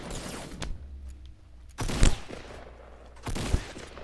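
Gunfire from the video game Fortnite Battle Royale: three separate loud bursts of shots at uneven intervals, with a quieter stretch of background game noise between them.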